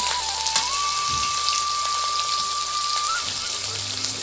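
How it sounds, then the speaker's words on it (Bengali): Bay leaves and chopped onion sizzle in hot oil for a Bengali mushroom masala, giving a loud, constant crackling hiss with a faint tonal whine running beneath it. "তেলটা গরম হয়ে গেছে, দিয়ে দিব তেজপাতা, পেঁয়াজ কুচি"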